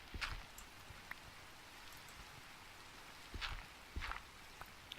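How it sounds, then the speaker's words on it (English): Rain falls at night in Minecraft, a soft, continuous hiss with scattered louder drips and taps, fairly quiet and steady. "It's nighttime and it's raining."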